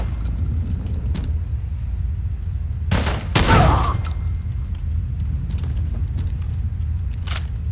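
Gunfire in the video game Fallout 4: a couple of sharp shots crack out, one quickly followed by a longer rumbling blast, over low ambient rumble with a later faint report.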